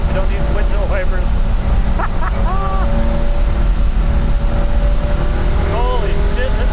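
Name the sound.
1974 Porsche 911 engine pulling hard in third gear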